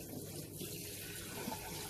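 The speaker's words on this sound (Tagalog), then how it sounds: "Marinig niyo yung tubig." A kitchen or bathroom tap runs while someone washes, giving a steady, even rush of water that is close by and fills the whole moment, with no talking.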